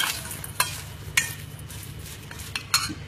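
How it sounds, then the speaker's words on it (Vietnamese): Salted pickled Vietnamese eggplant (cà pháo) being stirred and tossed in a bowl, with a few sharp utensil clinks spaced out over a soft, steady background rustle; no voices. "Ta trộn đều nó lên."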